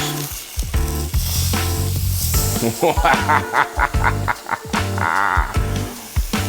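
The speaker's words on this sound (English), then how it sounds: "you can hear it. It's getting crispy. It's doing its thing. It's searing." Steak sears in a hot pan with a steady, crackling sizzle that is close and loud throughout, while someone talks over it.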